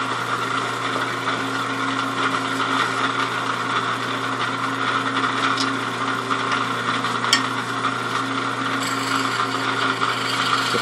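A wooden bowl spins on a lathe while a carbide tool cuts it, giving a steady motor hum under continuous rough scraping and rasping, with no talk.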